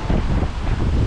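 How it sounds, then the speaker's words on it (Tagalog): Strong typhoon wind roars steadily outdoors, a dense broadband rush buffeting the microphone for a moment with no voices. "Grabe yung hangin dito."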